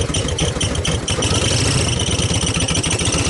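A Cobra replica car's engine idles in neutral, a steady loud mid-pitched rumble with a fast regular pulse throughout and no speech.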